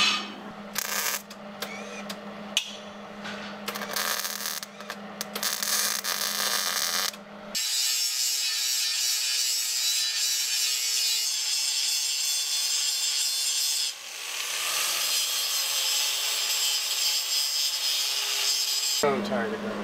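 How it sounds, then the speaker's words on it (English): Metal is ground during the build of a ladder and side rails for a school bus roof deck. Irregular clanks and rough grinding give way to a long, loud, sustained grinding run with one brief pause. "So I'm tired of grinding."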